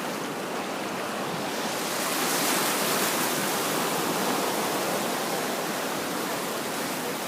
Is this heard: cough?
no